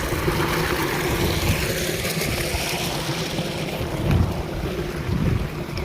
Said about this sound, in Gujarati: અને જોવો આ આપણે મોટર ચાલુ